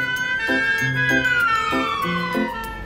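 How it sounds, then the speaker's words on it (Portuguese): An ambulance siren in a children's cartoon sounds a steady, loud wailing tone that slowly falls in pitch, over a bouncy, tinkly musical backing with repeated plucked notes. "Vejam, está chegando uma ambulância."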